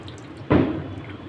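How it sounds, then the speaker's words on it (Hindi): A washed fish for grilling is lifted out of a bowl of water: one sudden splash with dripping that trails off, close by and alone against a quiet room. "इस तरह से हमारी ग्रिल फिश ये थो हो चुकी है और अब हम इसको निकाल देंगे पानी से।"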